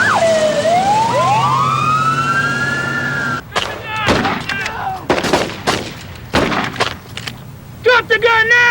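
An ambulance siren wails loud and close, sweeping up and down at the start of a police shooting call, then cuts off as sharp bangs of gunfire and voices take over.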